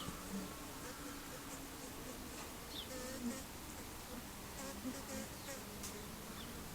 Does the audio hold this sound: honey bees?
yes